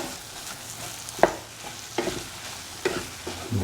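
A spatula stirs soya chunks and egg in a hot pan, giving a steady sizzle with three distinct scraping strokes at a close, even pace and no voices.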